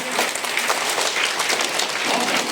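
Steady applause from a crowd, dense and continuous clapping throughout with no pauses, fairly loud and close.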